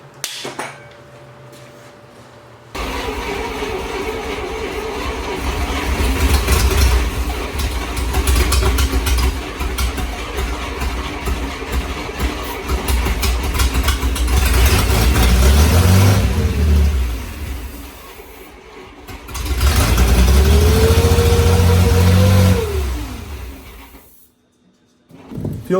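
A 1941 Plymouth barn find engine cranks and catches, running roughly with uneven revving and surges, stalls briefly, then revs up again before cutting out; loud and close.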